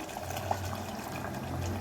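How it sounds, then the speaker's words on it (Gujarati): Hot water pours steadily into a pot of black chickpea curry with a soft gushing hiss, a short continuous fill with a faint low hum underneath. "ગરમ પાણી એડ કરવાનું છે।"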